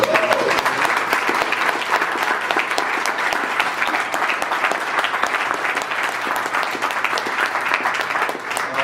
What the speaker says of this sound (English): I want to give a massive round of applause for